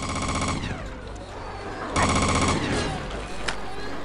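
Automatic weapon fire in the video game Chaser crackles in rapid bursts, a long volley at the start and another around the middle, loud and close amid game effects, with a single sharp shot near the end.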